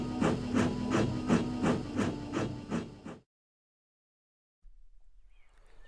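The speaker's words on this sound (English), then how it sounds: "With a whoosh of steam, Molly set off towards the washdown." A steam engine sets off with a run of about eight regular, forceful chuffs of steam close by, each puff hissing sharply before the sound cuts off into silence.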